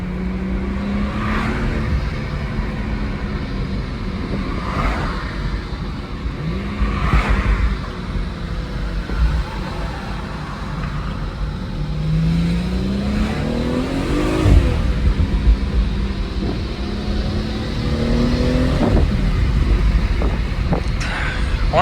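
A car engine revs and pulls hard through several gear changes in a Mercedes 250 or BMW 340i on a drive, pitch climbing and dropping in repeated sweeps under heavy wind rush and cabin noise.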